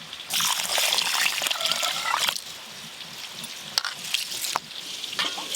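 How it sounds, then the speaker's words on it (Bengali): Home-grown rice is washed by hand in water in a rain-soaked kitchen, with a bright splashing, swishing rush of water that rises, eases, then returns with a few sharp knocks, close and unvoiced. "চালগুলো ধুয়ে নেব"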